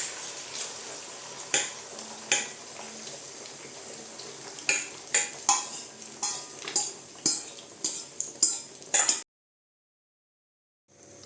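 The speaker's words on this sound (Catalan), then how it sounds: "I ara, amb l'oli ben calent, posarem la barreja." Eggplant omelette mixture frying in hot oil, a soft background sizzle beneath a rhythmic series of sharp utensil taps and scrapes against the pan, about a dozen strokes, ending abruptly in silence.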